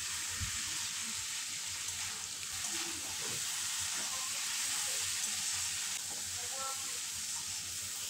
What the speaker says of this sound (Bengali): এবারে সবগুলো ভালোভাবে কষে নেব।